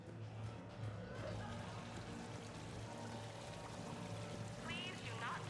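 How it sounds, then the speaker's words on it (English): A decorative water fountain in a casino in the video game Mass Effect 3 pours and splashes in a continuous, even rush, with faint voices underneath. "Please do not touch the waterfall. The fountain is decorative."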